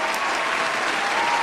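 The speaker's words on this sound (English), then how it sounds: "We gonna clap it up one more time." Dense, steady applause from many hands clapping at once, loud and sustained throughout with no pauses.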